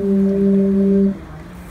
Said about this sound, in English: To make the sounds of my hurdy-gurdy more realistic, I combine the sounds of organ and the sounds of women.